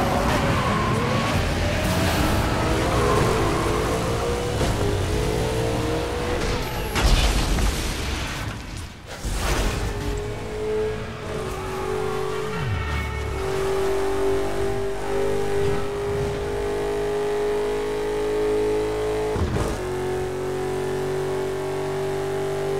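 Cars racing in the video game Burnout Paradise, engines revving and accelerating with rising whines, a crash boom midway, skidding and rushing speed noise continuing loud throughout.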